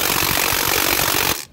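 Impact wrench driving a socket and extension on a bolt of a Ford Focus during clutch and dual-clutch transmission removal, a loud continuous rattling hammer up close that cuts off abruptly near the end.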